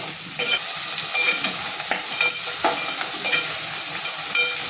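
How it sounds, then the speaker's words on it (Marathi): Masala being sautéed in a pan for a curry, a steady loud sizzle broken by scraping stirs of a spoon against the pan, with no voices. "एक दोन मिनटं आपल्याला परतून घ्यायचं याच्यामध्ये"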